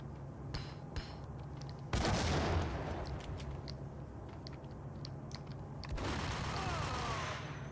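Gunfire from the Max Payne video game, a dense burst of shots breaking out sharply around two seconds in, with another volley near the end over a constant low rumble of game background noise.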